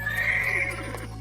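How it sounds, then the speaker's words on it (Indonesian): A horse in the Roblox video game gives a clear, fairly loud neigh, a high whinny lasting about a second and heard alone. "sekarang aku mau keluarin kuda aku ya guys ya"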